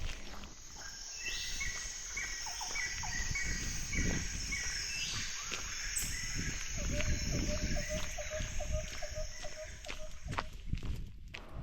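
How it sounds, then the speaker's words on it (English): Many frogs croak in a steady chorus of repeated chirping calls beside a rural dirt road on the Camino de Santiago near Hospital de Orbigo, with crunching footsteps close by throughout. "we heard the sounds of these many frogs along the way"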